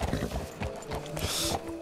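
Hooves clip-clop in a quick steady rhythm in Red Dead Redemption 2, fairly close, with a faint synthetic whinny and light background game ambience.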